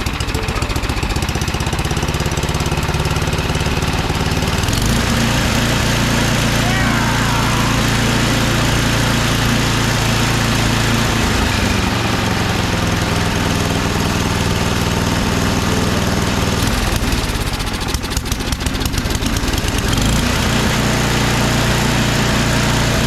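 A just-repaired snowblower engine runs steadily and loudly without pause, a buzzy small-engine drone that shifts pitch slightly partway through.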